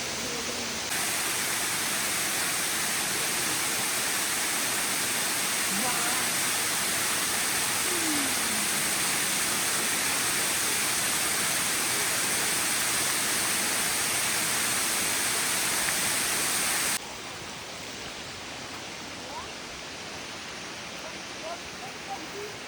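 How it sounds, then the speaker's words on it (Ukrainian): A waterfall on Madeira island roars as a steady, loud, broadband rush that holds unchanged for most of the stretch before dropping slightly near the end, with faint voices underneath. "У сезон дощів водоспад особливо повноводний, а в суху пору більш стриманий, але все одно чарівний."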